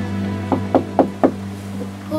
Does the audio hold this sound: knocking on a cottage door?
yes